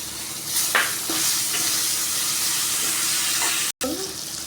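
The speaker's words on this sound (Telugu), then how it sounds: "కొంచెం గోల్డెన్ కలర్ వచ్చాక కరివేపాకు వేసుకుంటున్నాను" Curry leaves sizzle as they fry in oil with golden onions for a ridge gourd curry, a steady loud crackle filling the clip with a few sharp pops of stirring and a brief dropout near the end.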